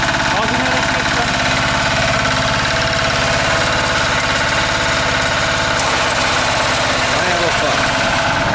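A walk-behind tractor (motoblock) engine runs steadily up close, a loud, continuous mechanical chugging with knocking vibration, while people talk over it.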